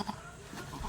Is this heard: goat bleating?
yes